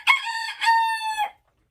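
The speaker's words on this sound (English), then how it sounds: "According to the rooster, it's crowing time." A rooster crows one loud, clear cock-a-doodle-doo close by, a bright stuttered opening followed by a long held call that cuts off cleanly into silence.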